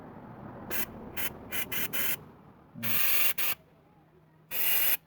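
Several bursts of aerosol cleaner spray into the bolt holes of a Mitsubishi Lancer engine block during a head gasket replacement, short hissing blasts followed by two longer sprays, close and fairly loud with no talk.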